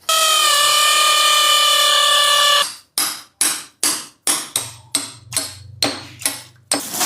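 An electric drill boring holes on a cattle farm runs as a steady, loud whine, then cuts into a rapid series of short, sharp bursts.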